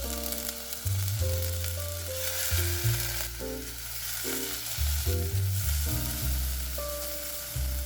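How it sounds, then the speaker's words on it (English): Crushed garlic and grated ginger sauté over low heat for crispy beef, with a soft steady sizzle and occasional stirring, close and fairly quiet under background music with no talking. "Add 2 tablespoons grated ginger and continue to sauté for 30 seconds."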